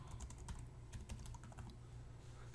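Keys clatter on a computer keyboard as a folder name is typed, a quick run of soft, close clicks with brief pauses, fairly quiet and without talk.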